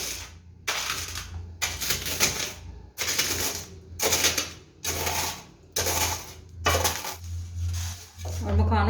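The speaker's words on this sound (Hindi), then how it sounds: "गोंद और मखानों को पीस लेते हैं। ये मैंने घोटना लिया है साग वाला" A wooden greens masher pounds and crushes edible gum and makhana in a vessel, giving repeated clattering, crunching strokes in bursts about every second, close and fairly loud.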